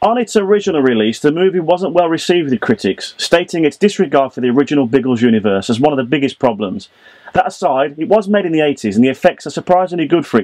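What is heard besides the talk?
No everyday noise stands out behind the speech.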